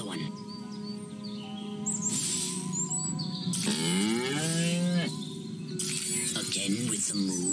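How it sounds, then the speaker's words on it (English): Cows moo repeatedly in long, sweeping, drawn-out calls, loud and close, with faint bird chirps in the background of an alien-themed cartoon scene. "Again with the moo?"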